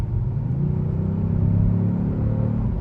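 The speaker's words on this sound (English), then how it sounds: "I'm gonna give it a little bit of gas," A 2020 Kia Stinger GT2 sports sedan engine and exhaust rev up under light throttle, a steady loud low rumble with rising engine tone, close and continuous with no talking.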